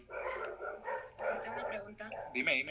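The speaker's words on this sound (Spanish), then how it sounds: "Disculpen el ruido de los perros" Dogs barking outside, brief yips and barks in the background under two people speaking Spanish close up.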